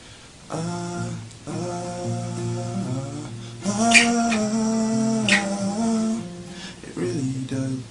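Acoustic guitar chords from a song's pre-chorus picked out note by note, shifting through several chord changes in a steady, moderately loud progression with no voices.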